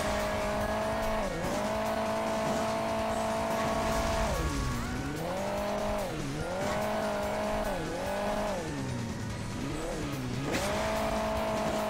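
A car engine in Hill Climb Racing 2 revs up and down continuously, its pitch rising and dipping repeatedly as a boost kicks in, loud and close throughout, with no talk over it.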